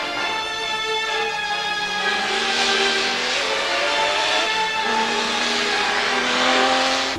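A Ferrari 250 LM race car engine revs loud and close, its harmonic tone climbing and falling through several continuous sweeps with no talking.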